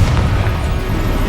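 A Confringo blast spell goes off in Hogwarts Legacy, a loud booming burst with a dense low rumble that fills the whole moment without a break.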